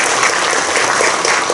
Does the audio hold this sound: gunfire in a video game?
no